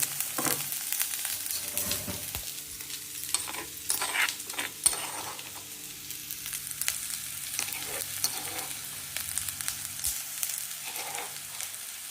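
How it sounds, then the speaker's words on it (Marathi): Onions sizzle and fry in oil in a pan with a few green chillies, with steady faint crackling broken by scattered clinks and scrapes of a spoon stirring throughout. "कांदा चांगला भाजला गेला आहे."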